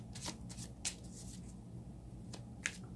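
A deck of angel oracle cards is shuffled, giving quick riffling bursts and soft flicks of card edges. The sound is close and quiet, with pauses between the bursts.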